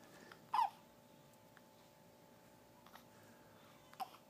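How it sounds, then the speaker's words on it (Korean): A single sharp hiccup rises from a quiet room, followed by a few faint clicks and a softer second hiccup near the end. "계속 딸꾹질이"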